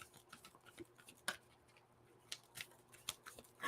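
A deck of oracle cards being shuffled by hand, soft irregular riffling clicks and flutters at low volume with no talking.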